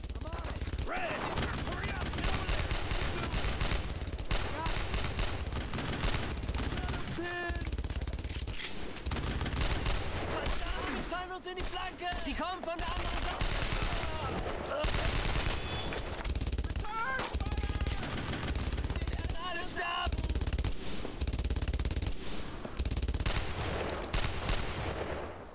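Near-constant rattling gunfire from the World War II shooter Brothers in Arms: Road to Hill 30 fills the whole stretch, with rapid machine-gun bursts and single shots layered densely, while voices speak over the din.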